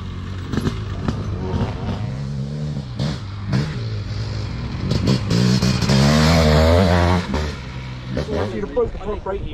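A 500cc motocross bike engine on a motocross track revs and swells, growing loudest midway before dropping back, heard close with clattering and a voice talking over it.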